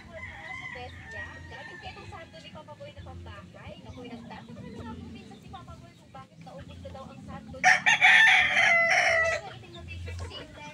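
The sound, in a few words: gamefowl rooster crowing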